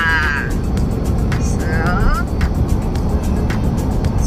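Cars passing along a road near a long bridge in Penang, a loud steady traffic roar with rising and fading swells from vehicles going by, alongside chirps and clicks and talk in the foreground.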